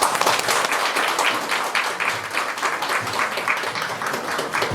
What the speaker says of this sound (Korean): 동구청장님을 큰 박수로 모셔보겠습니다